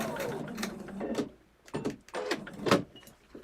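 A sewing machine runs in short bursts while back-stitching the end of a quilt seam, its mechanical whir starting and stopping several times at close range with no talk over it.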